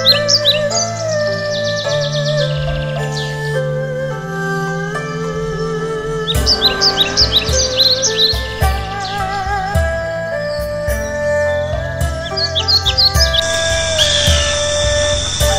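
Woodpeckers feeding on oranges, with repeated sharp chirping calls over a steady background of layered musical tones, loud and close throughout.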